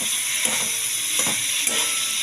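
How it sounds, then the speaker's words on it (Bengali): Fish heads fry in spices with a bright, continuous hiss, and three soft stirring scrapes land at even intervals over the sizzle. "মাছের মাথাটা একটু ফ্রাই করে এর সাথে মশলার সাথে"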